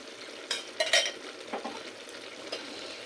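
Brinjal curry with mustard oil is stirred in a pan, with a faint sizzle under a few close metallic scrapes and clinks of the spoon.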